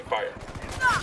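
Gunfire from the Ghost Recon Wildlands video game: a brief burst of rapid shots, moderately quiet, with a voice talking over it.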